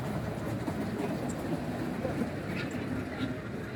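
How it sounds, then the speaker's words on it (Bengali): A children's amusement park train rolls along in a steady, continuous rumble with faint clatter, close and fairly loud, with a voice talking over it. "ট্রেন চলেছে, ওই ট্রেন চলেছে"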